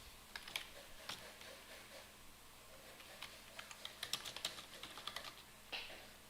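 Close computer keyboard typing while writing program code, irregular bursts of crisp key clicks with brief pauses, the densest run near the end.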